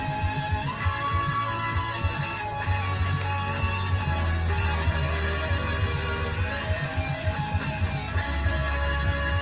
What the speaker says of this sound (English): I'm amazed these old Maxell cassettes still sound like this.